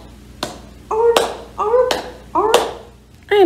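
Hands held out front like flippers clap together in a seal imitation: four or five loud, separate claps at a steady pace, with a voice talking between them.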